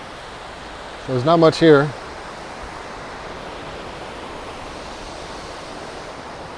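Surf washes steadily at Patong Beach in Phuket, a soft, even, broadband rush of waves at moderate distance, with a brief spoken remark near the start.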